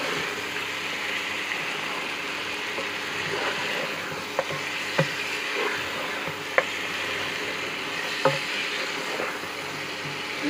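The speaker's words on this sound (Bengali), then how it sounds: "একটু নেড়ে নেব।" A five-spice masala sizzles steadily in a nonstick karahi while it is stirred, with occasional sharp clicks and scrapes of the spatula against the pan.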